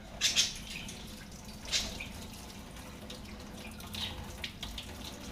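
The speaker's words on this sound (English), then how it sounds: "Now I want to rinse it real good with super hot water." Hot tap water runs steadily into a sink with a soft hiss, and a few louder splashes come through as a muzzleloader barrel is held under the stream.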